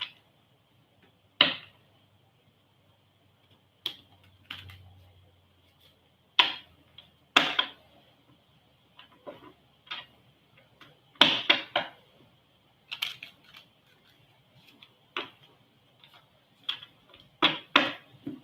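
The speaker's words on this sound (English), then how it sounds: "Give a shuffle of the cards here." Tarot cards shuffled during a free reading, heard as a scattered series of short, crisp riffling clicks and flaps with quiet gaps between bursts, fairly close and alone.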